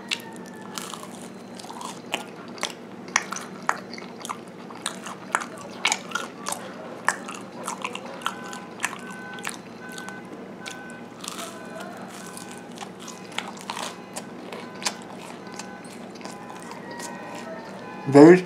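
A rice cracker topped with spicy pork floss is bitten and chewed close to the mic, with repeated sharp crunches spread over the chewing at an irregular pace.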